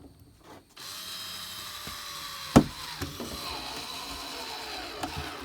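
A cordless drill, running low on charge, whirs continuously after a brief pause, with a sharp crack and a few clicks as it bites through double-walled plastic.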